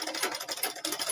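A sewing machine top stitching a corset, its fast steady needle chatter running continuously and close up with slight rhythmic pulsing, no voices.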